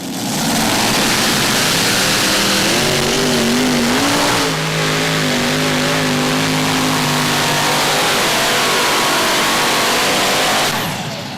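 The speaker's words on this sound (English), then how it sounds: "he put an industrial motor together with 2 Hemis" A hot rod semi truck pulling at a Hamburg, NY truck pull, powered by an industrial motor paired with two Hemi engines, roars loud and close, its pitch climbing and wavering as it strains down the track for about ten seconds.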